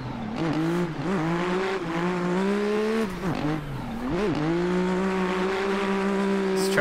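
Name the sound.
A90 Supra race car driving in a racing video game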